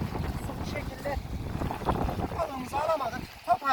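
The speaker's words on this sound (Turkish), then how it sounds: "gayet şiddetli bir dalga var" Strong waves on a lake slap against a small fishing boat while wind buffets the microphone, a continuous choppy wash with someone talking over it.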